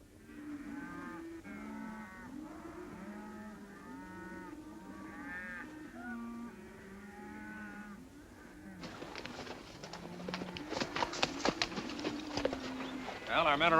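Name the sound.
cattle mooing, rounded up in a basin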